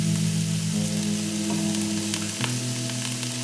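Spices for momo soup sizzle in hot oil in a pan, a steady close frying hiss with faint stirring clicks over a low kitchen hum.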